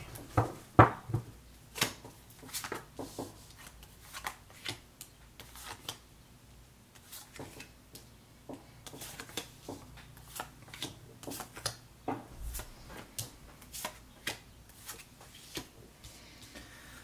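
Tarot and oracle cards are shuffled and dealt onto a table: soft riffling flicks and light taps recur in irregular bursts, close and quiet, with no talking.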